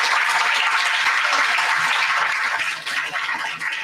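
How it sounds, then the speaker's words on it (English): Audience applause for performing artists at an evening Navarathri Mahotsavam temple celebration, a steady dense wash of clapping that thins slightly toward the end, with no talk over it. "Let's give a big round of applause to all the artists this evening."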